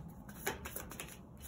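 A deck of cards shuffled and drawn by hand during a reading, soft quick riffling and flicking bursts with a few sharper snaps, close and fairly quiet, no talk.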